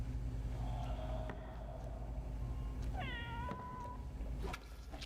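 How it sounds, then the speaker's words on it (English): A cat meows faintly in the background of a haunted house crime-scene cleaning game, one rising, drawn-out call over a constant low hum and rumble. "meowing in the background"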